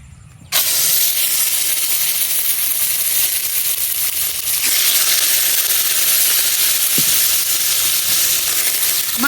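Pieces of a large grass carp fry in a wok in oil rendered from the fish itself, with no cooking oil added; a loud, continuous sizzling hiss bursts in suddenly and holds steady, with a few faint clinks and no talking.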